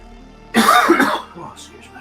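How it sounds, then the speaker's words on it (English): A single harsh, close cough from a lingering COVID cough bursts out after a quiet moment, followed by a short throaty trailing sound. "How long does it normally take you to lose your COVID cough?"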